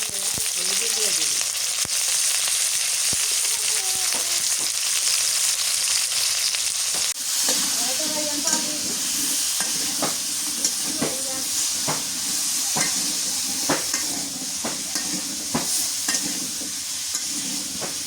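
Potatoes fry and sizzle in a mutton curry inside a handi pot, village-style cooking: a steady, close hiss of steam and frying with occasional stirring clinks and scrapes, no talk.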